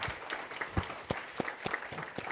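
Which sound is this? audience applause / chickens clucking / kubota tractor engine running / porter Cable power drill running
audience applause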